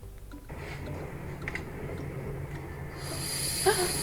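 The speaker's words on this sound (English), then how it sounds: "Yeah, Bunsen burner, I reckon." A Bunsen burner gives a soft, steady gas hiss that brightens into a sharper, higher hiss toward the end.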